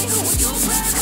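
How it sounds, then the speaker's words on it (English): Light hand sanding on a car body panel of a budget Honda Integra build, a close, continuous abrasive rubbing with a steady back-and-forth pulse and no talking. "I'm just lightly sanding this, and yeah, we should be ready to paint soon."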